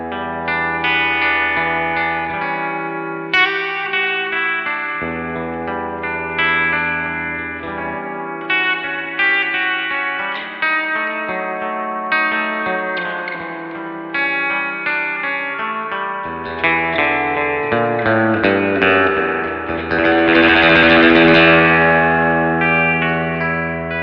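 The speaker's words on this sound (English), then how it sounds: "why don't we increase the reverb to get that real drippy sound?" A guitar played through a Fender Hot Rod Deluxe IV tube amplifier with its spring reverb turned up, producing sustained, drippy chords and notes that ring and splash with long reverberant tails, loud and alone.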